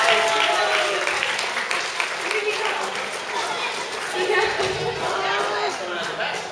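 An audience at a school oratory contest breaks into sustained applause that stays steady throughout, with voices talking over the clapping.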